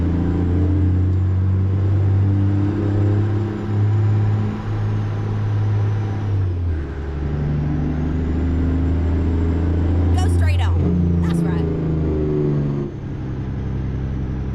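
A deep Detroit Diesel truck engine in a truck-driving video game drones steadily, shifting pitch as it revs and settles, with brief higher bursts; a voice talks over it at times.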